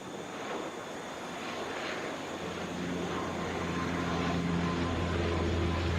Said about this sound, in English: This is a FedEx feeder operated by Mountain Air Cargo, flight 8971, coming in from Memphis.